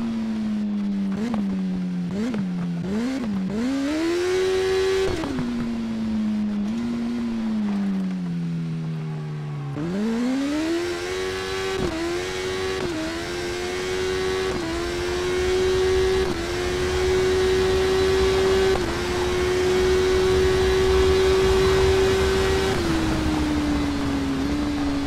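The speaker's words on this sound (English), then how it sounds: "Bikes sound absolutely awesome when they are speeding up or slowing down" Motorcycle engines in the TT Isle of Man: Ride on the Edge racing game rise and fall through rapid gear changes, then climb in a long sustained acceleration to a high, steady whine, loud and continuous with no talking.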